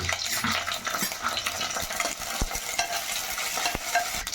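Bay leaf, cinnamon and cloves fry in oil in a kadai, a steady crackling sizzle broken by a few light scrapes and clicks of a spoon.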